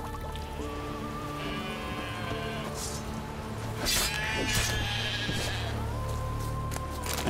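Sheep in The Witcher 3 bleat repeatedly in a game setting, several drawn-out calls layered over steady ambient music and a soft trickling water bed.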